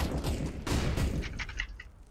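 A few sharp gunshots ring out during a CS:GO competitive match, close and punchy, followed by fainter scattered shots.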